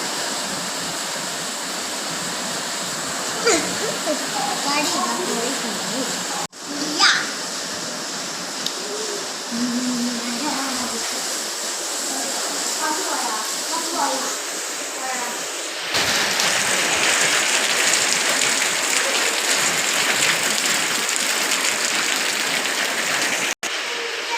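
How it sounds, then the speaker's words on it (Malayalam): Heavy rain pours down as a steady, dense wash of noise that grows louder and fuller partway through, with faint scattered sounds beneath it. "നല്ല മഴയുണ്ട് ഇവിടെ."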